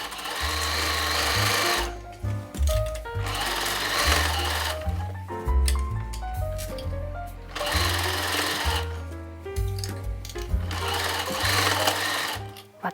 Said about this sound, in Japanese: 前身ごろに前スカートを縫おう。